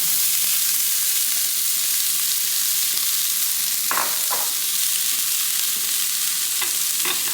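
Onion sizzles in a pan for an Ecuadorian llapingacho dish, a constant bright hiss with a couple of short stirring knocks, no voices.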